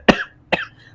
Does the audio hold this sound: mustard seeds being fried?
no